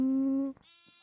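A single sheep bleats in Minecraft, one loud drawn-out call with no talking, followed by a short quieter game sound.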